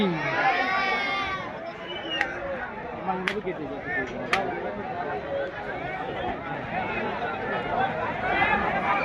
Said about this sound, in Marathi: भयानक गर्दी आहे.